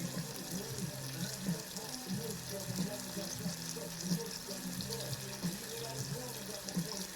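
Battered boiled eggs lowered slowly into oil at about 280 Fahrenheit give a steady, soft bubbling sizzle with faint crackle, continuous and moderately quiet throughout.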